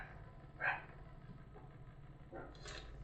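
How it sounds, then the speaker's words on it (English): A dog barks a couple of times at a distance, short faint yaps over a low steady background hum. "You hear the dog barking there."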